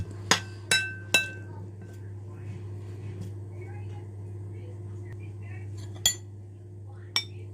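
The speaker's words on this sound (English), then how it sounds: "one red onion, give this a mix" A spoon clinks against a bowl while mint raita with red onion and chopped tomato is stirred: three quick taps at first, then two more spaced out later over a low steady hum.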